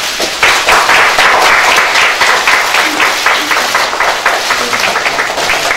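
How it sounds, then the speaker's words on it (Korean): A crowd applauds steadily for several seconds at a Democratic Party recruitment announcement event, dense clapping filling the room at a constant level. "박수 부탁드립니다."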